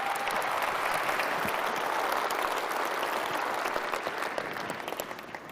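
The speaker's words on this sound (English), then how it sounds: "Round of applause" Audience applause at Sony's E3 2005 PlayStation 3 press conference, a dense, steady wash of clapping from a large crowd that holds throughout and only begins to thin slightly at the end.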